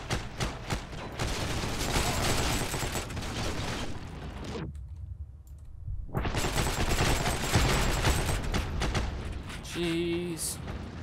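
Dense gunfire rattles in Heroes and Generals, a World War II shooter game, as bursts of shots come at the player. The shooting is loud, rapid and sustained, stops completely for about a second midway, then resumes just as heavy.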